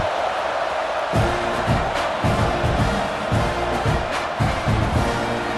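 A stadium crowd in the video game EA College Football 26 roars as a loud continuous wash of noise, with rhythmic thumping beats and brass-like tones pulsing beneath it.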